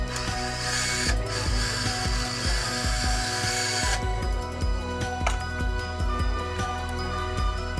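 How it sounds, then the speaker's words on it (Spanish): A ratchet screwdriver drives a surgical screw into the radial styloid during hand surgery for a radius fracture, giving close, continuous rapid clicking over a steady mechanical whine. "Vamos a colocar ahora uno de los tornillos más importantes, que es el que va al estiloides radial"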